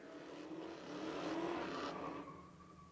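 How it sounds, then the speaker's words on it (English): A drift car does a burnout at Lake Erie Speedway during a drift competition, its engine roaring steadily as the spinning tires hiss, the noise swelling louder in the middle before easing off. "Dylan doing a burnout just like he throwing a sandbag on the gas pedal"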